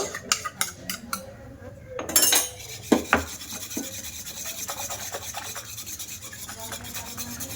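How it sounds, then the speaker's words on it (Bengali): Yogurt is stirred into milk in a bowl, heard as close, rhythmic scraping and rubbing of a utensil against the bowl, with a few louder clinks partway through and then a softer, steady rasp. "দেখো ভালো করে মিশিয়ে নিয়েছি দইটা দিয়ে"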